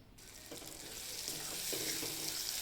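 Drumstick pods stirred into a pan of oil with crushed peanuts and green onion, a steady close sizzle that grows gradually louder, with a few soft spoon scrapes and stirs and no talking.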